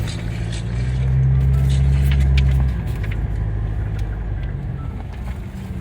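A car rolls toward a hotel lobby, its steady engine and road rumble loud and close, with a brief stronger drone early on before settling into a constant hum.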